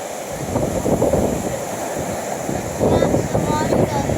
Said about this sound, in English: Water's coming all the way up to the dunes.